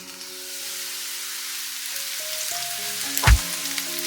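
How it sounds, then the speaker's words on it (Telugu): Onions fry to golden brown in a pan for baby corn masala, a steady soft sizzle with faint tonal hum and one louder clatter near the end. "ఉల్లిపాయలను గోల్డెన్ బ్రౌన్ కలర్ వచ్చే వరకు వేయించుకోవాలి"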